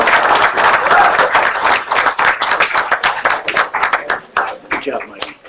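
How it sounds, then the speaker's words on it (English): A room of people at a borough council meeting claps in a loud, close round of applause lasting several seconds, thinning out toward the end. "Everybody have one round of applause."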